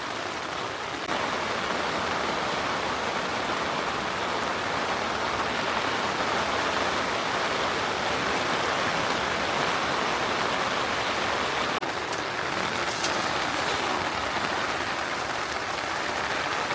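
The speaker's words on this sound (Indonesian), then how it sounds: "Nah, di luar tuh lagi hujan ya. Kedengaran banget." Steady rushing rain pours down continuously outside at a camp in Megamendung, Bogor, a dense even hiss with no pauses and no voices.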